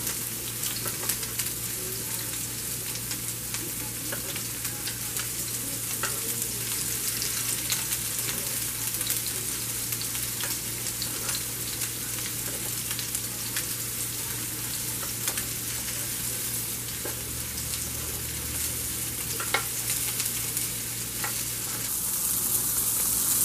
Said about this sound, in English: I like to just brown them in the pan.